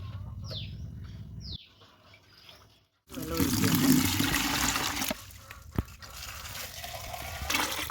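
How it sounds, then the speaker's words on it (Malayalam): One litre of water pours and splashes steadily into a bucket, a loud rushing wash with a few brief knocks, preceded by quieter trickling and faint chirps. "ഇതിലേക്ക് നമ്മൾ 1 ലിറ്റർ വെള്ളം ഒഴിച്ചു കൊടുക്കുകയാണ്."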